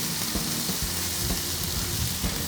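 Vegetables sweat and sizzle on a Pit Boss griddle, a steady close frying hiss that carries through with no talk, with faint crackles and pops rising from time to time.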